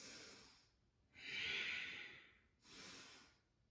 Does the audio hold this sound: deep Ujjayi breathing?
yes